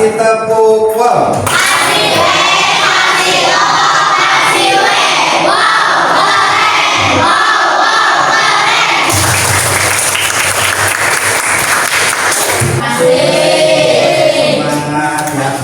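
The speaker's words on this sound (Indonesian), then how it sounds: "Kasih tepuk wow." An audience at a school coaching session bursts into loud, sustained applause after a group presentation, with cheering and children's shouts rising over the clapping before it briefly dips and then swells again.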